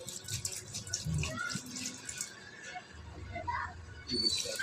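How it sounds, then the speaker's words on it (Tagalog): Vinegar is poured into a pot of tilapia paksiw cooked Kapampangan style with no water added, giving soft, close, intermittent splashing and trickling at low volume. "Ayan, lalagyan na natin ng suka."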